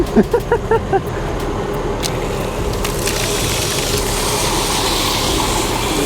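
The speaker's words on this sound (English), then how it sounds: "that's a whole lot of water coming out" Water from a fire truck hose sprays in a loud, steady rush at a touch-a-truck event. A few sharp knocks come first, then the gushing hiss runs continuously.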